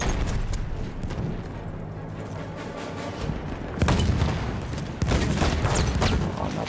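Dense, continuous gunfire and explosions in Battlefield 1, loud and close, with sustained rattling fire and a couple of heavy booming surges, all without a break.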